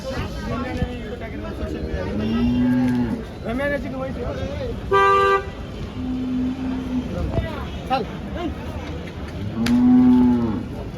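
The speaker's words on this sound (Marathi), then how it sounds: "गाई पहा तुम्ही" Cows moo repeatedly at a busy outdoor cattle market in Malegaon, with people talking throughout and a vehicle horn tooting briefly in the middle.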